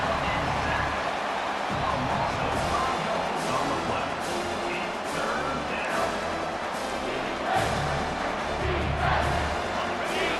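A large football stadium crowd roars in a dense, sustained wall of cheering and noise during a rivalry game's red zone stand, loud and continuous with swells throughout.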